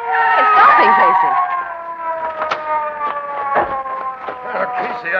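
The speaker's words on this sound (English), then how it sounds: "Hey, Casey, here comes a police car." Police car siren in a radio drama, a loud wailing tone with strong harmonics, rising then settling into a steady wail, with traffic noise and voices talking over it.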